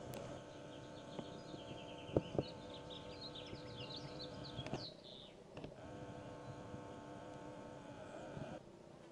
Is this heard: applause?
no